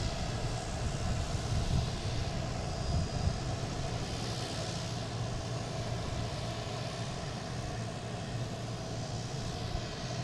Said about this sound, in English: here's Delta heading to Atlanta, an A321